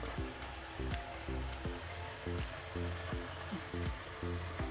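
Crab roast with fennel powder and curry leaves sizzling and frying in a pan while being stirred, a steady close hiss with regular scraping strokes recurring every half second or so.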